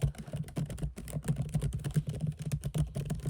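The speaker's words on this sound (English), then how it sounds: "Can you hear the typing, the clicking?" Rapid, uneven clicking of keys on a laptop keyboard, close up, a dense run of light taps with no talking.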